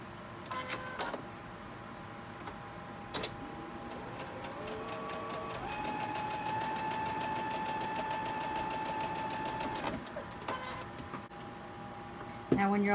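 Home sewing machine stitching quilt fabric for a Halloween mystery quilt, a steady mechanical whir with a fast regular needle rhythm that starts and stops, close by in a quiet room.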